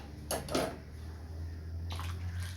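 A ladle stirs custard milk in a pot for Arabian bread pudding, making a few quiet clinks and scrapes against the metal in short bursts.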